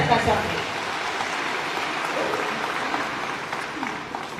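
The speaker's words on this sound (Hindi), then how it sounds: "जोरदार तालियों से सबका स्वागत।" An audience at a Hindi-language public event for a pilgrimage train scheme breaks into applause, an even, hissing sheet of many hands clapping that holds steady throughout at moderate volume, briefly louder at the start.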